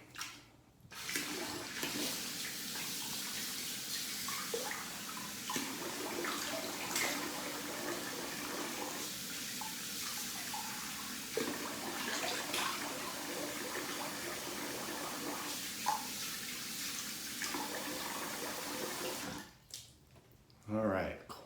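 Cold tap water runs steadily at close range for about twenty seconds, a continuous broadband gush after a wet shave, briefly cutting off near the end.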